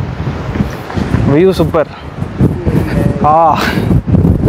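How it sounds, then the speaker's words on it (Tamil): Wind gusts over a hilltop at Riverston in Sri Lanka, a broad rushing buffet that roars against the microphone while people talk loudly nearby. "அந்த காற்று இருக்குல்ல காற்று சூப்பராக இருக்குது"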